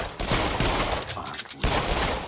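Rapid gunfire in the horror shooter game Until Dawn: Rush of Blood, with loud, dense bursts of shots, one short pause, then another burst, under faint talking.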